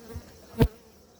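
A honey bee buzzes close past a beekeeper in a brief, sharp fly-by, preceded by a fainter low hum against quiet outdoor background.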